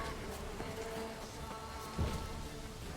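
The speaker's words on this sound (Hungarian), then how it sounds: "Azok méhek voltak?" A swarm of bees buzzing in The Witcher 3, a steady, close, droning hum that holds throughout, with a brief thump near the middle.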